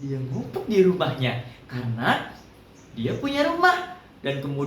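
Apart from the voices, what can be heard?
None of the usual background noises is heard.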